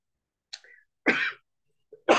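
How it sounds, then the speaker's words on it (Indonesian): A man coughing alone in a quiet room, a few short dry coughs and a throat clear spread out over a couple of seconds. "saya agak sedikit batuk"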